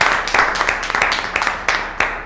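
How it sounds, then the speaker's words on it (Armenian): Applause rises from a crowd at a live rock football match at half time. It is a quick run of sharp, irregular claps from a small group, close and fairly loud, with a little talking mixed in. "Դե ծափարենք"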